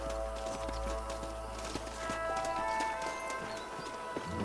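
Horses' hooves clip-clopping in the video game Red Dead Redemption, a steady run of close, crisp hoof knocks over a low outdoor background hum.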